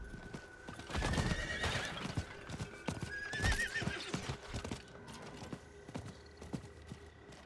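Horse hooves in the video game Diablo IV clip-clop in a quick, uneven rhythm, close and clear, with a couple of whinnying snorts rising over the footfalls.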